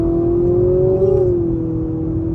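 A 2024 Nissan Altima SR VC-Turbo accelerating from inside the cabin, its engine droning steadily and rising slightly in pitch before settling into a constant hum, loud and continuous with no talking.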